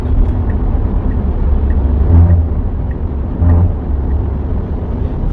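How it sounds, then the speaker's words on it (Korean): Tesla Model Y passing another vehicle in a tunnel on the Seoul–Yangyang expressway, a steady loud low road rumble with two brief swells as vehicles go by close, no talk. "추월 한번 해보겠습니다."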